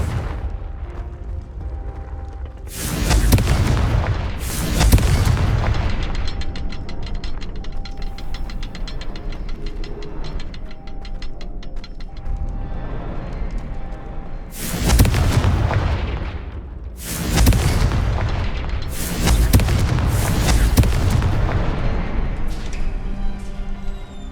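Confringo blasting curses explode in the Hogwarts Legacy video game, several loud, booming blasts in two clusters, each with a harsh crack and rumbling decay over a continuous low background.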